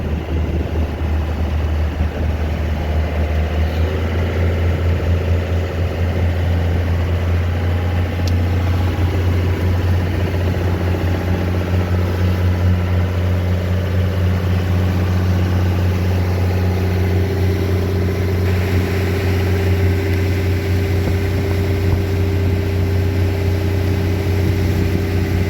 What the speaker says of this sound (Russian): мотор уже прогрелся и дымность пока не проходит